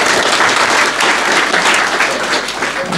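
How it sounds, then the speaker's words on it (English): Audience at a comics festival writers' panel applauding the panelists, a dense, loud, sustained wash of clapping from a large crowd throughout. "Please round applause for the panelists then."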